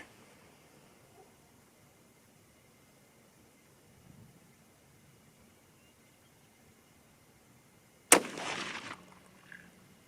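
A .30-06 Springfield rifle fires a 150-grain Hornady SST handload outdoors at a target range, giving one sharp, loud report that rings out briefly after a long quiet stretch.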